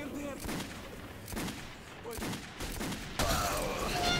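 Gunfire in the video game Metro 2033, several broadband shots and bursts spread across the clip over a dense, noisy game backdrop, louder toward the end.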